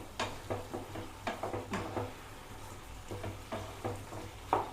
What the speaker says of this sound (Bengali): এবার একটু ঘেটে দেবেন এরকমভাবে